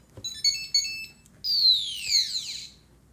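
Short electronic beeps in a quick pattern from a model rocket flight computer's buzzer, followed by a rising-and-falling chirping tone sweep, clear and close.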